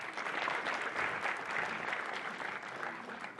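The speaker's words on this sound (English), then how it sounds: "round of applause for Fred" An audience applauds Fred at a live event before a Super Bowl halftime show, giving dense, steady clapping that holds at an even level throughout without talk.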